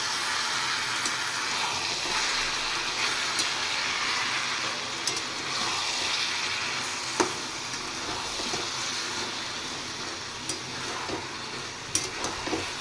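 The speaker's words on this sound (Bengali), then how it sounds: "এবার দেখি একটু নেড়ে।" Taro greens with soya beans cook in a pan, uncovered and stirred, with a steady watery sizzling hiss throughout and occasional light spoon scrapes and clicks.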